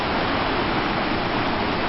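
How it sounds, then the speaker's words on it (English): Lower Yosemite Fall, the end of North America's tallest waterfall system, crashes down as a dense, steady, loud roar with no break. "the lower fall of the Yosemite finishes the tallest waterfall system in North America with a tremendous crash"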